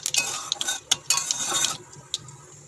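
Whole cardamom, cinnamon, cloves and black cumin are stirred in hot oil in a pan, with a quick series of metal spatula scrapes and clinks over a soft sizzle, close and fairly loud.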